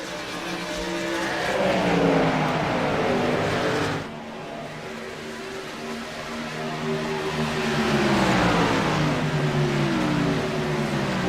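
Racing trucks roar around Homestead Miami Speedway in a racing video game, with engines droning and shifting pitch as they pass, one briefly easing off before the loud pack noise swells again.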